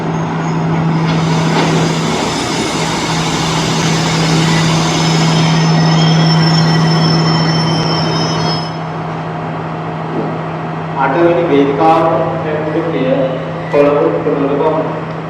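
A train rolls past close by near Wellawatte station in Colombo at night, a loud steady rumble of wheels and cars with a sustained squeal that fades out, followed by people talking.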